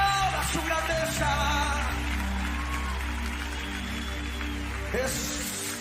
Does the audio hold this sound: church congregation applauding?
yes